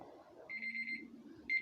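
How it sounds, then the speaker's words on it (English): A digital timer alarm rings in quick, high electronic beeps, sounding in two bursts with a pause between them, with a low hum underneath. "my timer."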